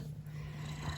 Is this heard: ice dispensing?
no